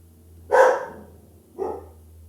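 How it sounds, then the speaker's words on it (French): A small dog barks twice indoors, close and loud, the second bark shorter and softer, with a low steady hum underneath. "Je vais la laisser japper un petit peu."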